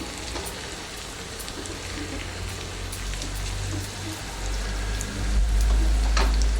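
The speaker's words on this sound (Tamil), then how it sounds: "முந்திரி இன்னும் ஃப்ரை ஆகலை, ஃப்ரை ஆகிட்டுருக்கு." Cashews frying in a pan of oil for Tamil rava pongal give a steady, soft sizzle with a low crackling bed that grows slightly louder toward the end, with no voices.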